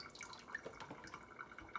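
Sorrel rinsed by hand in a bowl of water, with soft drips, small splashes and trickles that come close and irregularly, without any talk.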